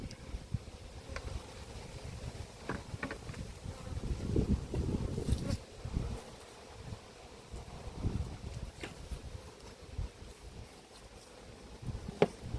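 Honey bees at an apiary hive hum in a low, steady buzz, with a big cluster on the underside of a frame, plus soft handling knocks and a few louder swells.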